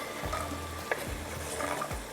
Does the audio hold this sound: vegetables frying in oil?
yes